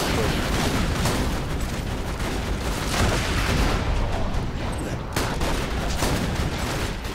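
Dense, continuous gunfire and booms from combat in the video game Borderlands 2, loud and unbroken across the whole stretch, with a voice faintly underneath.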